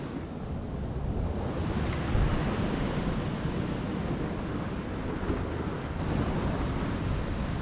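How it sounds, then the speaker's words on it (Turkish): Sea waves break and wash along a shore at a fishing campsite, a steady, loud, rushing roar with gusting wind buffeting the microphone throughout. "Gerçekten efsane dalga var."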